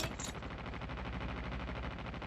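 Sustained automatic fire from a machine gun in the video game Call of Duty, a dense rapid rattle of shots running steadily and loudly through the whole stretch with no pauses.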